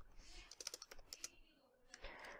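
Quick bursts of keystrokes on a computer keyboard while writing Python code, about a dozen close, crisp clicks followed by a short pause and a few more taps.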